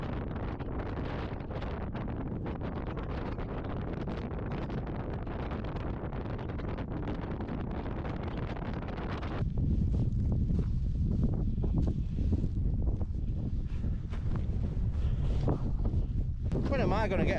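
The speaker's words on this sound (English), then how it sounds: "When am I going to get a break from this bloody wind" Strong wind buffeting a microphone on a Lake District fell, a constant loud rumbling roar that grows heavier and deeper partway through, with no break in the gusting.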